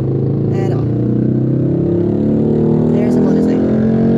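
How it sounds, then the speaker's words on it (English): A motorcycle engine drones through slow, congested traffic, its pitch rising steadily over the rumble of a car cabin and other vehicles. "There's a motorcycle."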